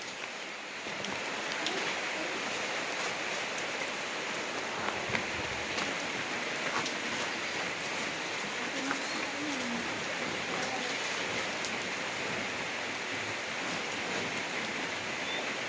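Rain falls steadily outdoors, a constant close hiss of drops on surfaces with occasional louder taps, and a bird cooing faintly in the background.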